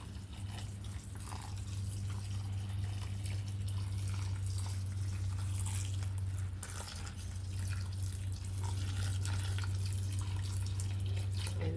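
Water poured steadily onto a potted potato plant being replanted, a continuous soft splashing trickle with faint drips over a low steady hum, close and quiet, with no talking.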